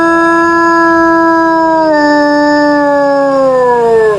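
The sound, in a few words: she-wolf howling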